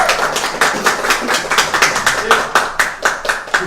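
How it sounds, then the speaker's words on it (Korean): Applause at an indoor studio event, a bright, steady run of close, crisp hand claps at a brisk even rhythm, sustained for several seconds without talk over it. "박수!"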